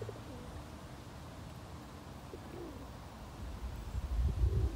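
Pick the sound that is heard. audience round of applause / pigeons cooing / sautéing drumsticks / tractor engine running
pigeons cooing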